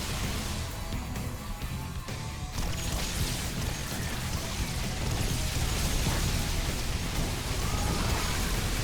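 Psionic Storm from a Protoss player in a StarCraft 2 Protoss-versus-Zerg tournament match: a dense, crackling, rain-like hiss that runs steadily for the whole stretch, with rumbling low-end texture and no voices.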